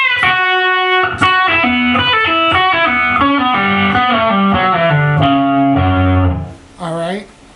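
An electric guitar with a distorted tone plays a riff at a slow pace, with steady repeated notes stepping through the pattern before a short voice comes in near the end.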